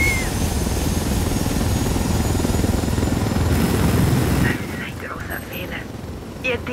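A helicopter flies in Ghost Recon Wildlands, its loud, continuous rotor thrum filling the first four and a half seconds before dropping to a quieter drone with faint chirps above.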